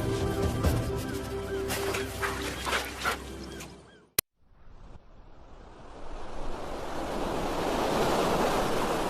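Waves roll onto the Namib coast at a river mouth with a broad, roaring wash of surf and wind. The sound cuts abruptly midway, then the wave noise swells back up to a loud, steady roar.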